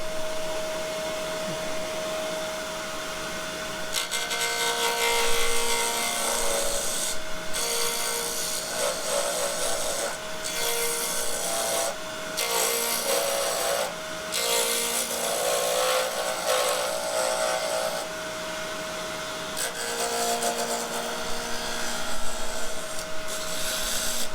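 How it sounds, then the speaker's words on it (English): Lathe spinning near 3,500 RPM while an Easy Wood carbide cutter turns a wooden pen blank, a continuous whirring motor tone broken by bursts of scraping cutting noise as the tool engages and lifts. "I'm going to be using this Easy Wood carbide cutter to cut it"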